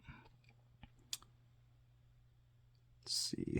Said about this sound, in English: I think we got a click out of that.